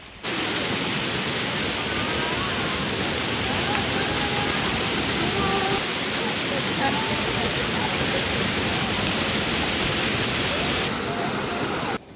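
Paniyari waterfall in Banaskantha: a loud, close, unbroken roar of falling water fills the whole stretch, with voices faintly mixed into the rush.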